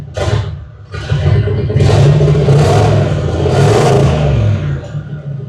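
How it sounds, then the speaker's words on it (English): A 1950 Ford engine fitted with a turbo revs loudly in a shop, its rumbling mid-range drone rising and surging across several throttle blips with a metallic whine riding on top. "I really want to hit a little rev and see if we can hear the turbo"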